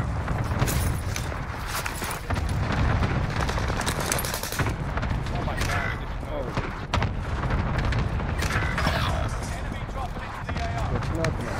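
Cluster strike explosions hit in the video game Warzone, a dense run of sharp bursts and booms mixed with gunfire, with a player talking over the chaos.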